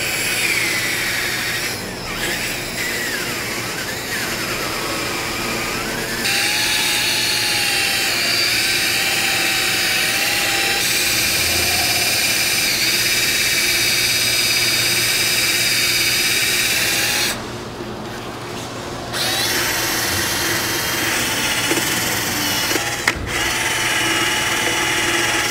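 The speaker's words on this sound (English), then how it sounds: "I managed to get majority of the rust out of it with the grinder and the wire brush on my drill" A drill fitted with a wire brush scrubs rust from metal grooves, giving a loud, steady high-pitched whine that shifts slightly in pitch as pressure changes, with a few brief drops when the tool lifts off.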